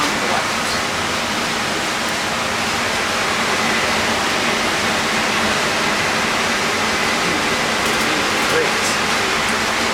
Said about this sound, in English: we have the old hot water heater, and we have a leak from the left